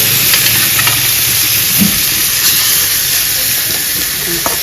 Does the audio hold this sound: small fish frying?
yes